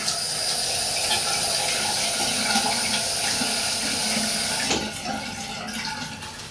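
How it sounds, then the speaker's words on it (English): Hot water running steadily into a Simpson shaving brush, a continuous hissing tap stream that cuts off near the end, leaving a faint residual trickle; no voices. "Also feels really good adding that hot water to the brush."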